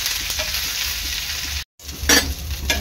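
Onion, chili, garlic and black pepper fry on a tava with a close, crackling sizzle. It breaks off for a moment, then returns with sharper bursts of spattering and stirring.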